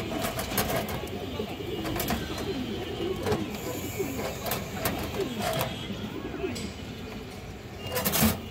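Pigeons kept for sale, among them a Kajlapuri hen and a Bagha hen, coo faintly under a busy run of clicks and light knocks.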